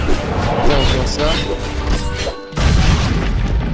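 A charged explosion goes off in a video game's duel mode: a dense, loud booming burst that drops out briefly, then slams back in over a busy mix of game sounds.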